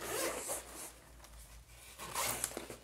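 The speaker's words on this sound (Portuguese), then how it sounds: "Ele vem um zíper aqui." A zipper on a chest-style school pencil case is pulled open in two close, scratchy zipping strokes, the first near the start and the second about two seconds later, with no talking.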